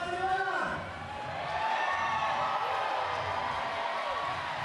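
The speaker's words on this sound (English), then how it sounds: "Crowd's getting behind him as he finds his feet." A crowd cheering and whooping for a climber at the 2017 Stone Age Yank-N-Yard USA Climbing National Cup competition, a sustained roar with rising shouts, heard under steady commentary talk.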